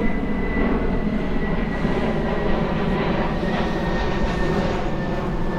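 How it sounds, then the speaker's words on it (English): An airplane passing overhead near a Minneapolis cemetery, a loud continuous engine roar filling the whole stretch at a steady level, with no talking. "Another plane coming over."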